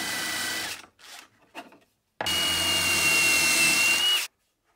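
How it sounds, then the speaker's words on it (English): A power drill whirs in a short burst, then a few brief bursts, followed by a longer steady high-pitched run close by, drilling screw holes through a template. "drill the holes for the screws using that as a template"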